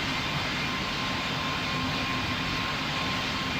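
A Ryanair airliner in the video game Pilot Training Flight Simulator roars steadily through its takeoff, a constant broadband engine rumble with a faint whine and no pauses.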